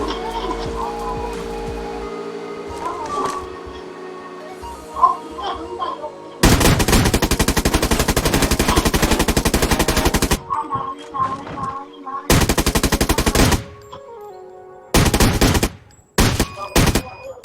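Rapid automatic gunfire in a Rules of Survival squad match, with several long sustained bursts and shorter volleys, loud and close, separated by quieter game ambience and faint background sounds.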